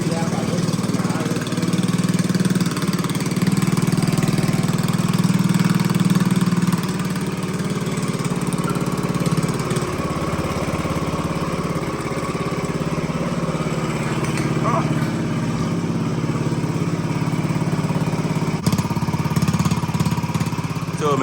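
A Bintelli 50cc scooter engine running after a carburetor replacement, buzzing steadily and loudly up close, its pitch wavering slightly over the span, with a sharp click near the end.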